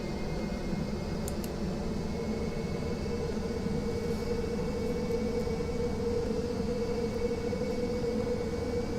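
Engine noise from an airliner taxiing off the runway at Kai Tak in Flight Simulator X, a steady, even drone with no pauses throughout.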